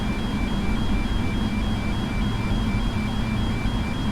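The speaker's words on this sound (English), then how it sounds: "What is that beeping?" A faint, regularly repeating electronic beep pulses over a loud, constant engine roar in a simulated Boeing 777-300 cockpit.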